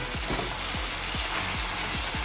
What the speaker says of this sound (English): Goes a little salt, and then I give it a good stir